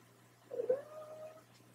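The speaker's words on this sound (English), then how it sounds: "there's my cat" A house cat meows once indoors during a quiet crochet session, a single moderately loud call that rises and then trails off over about a second, with no talking over it.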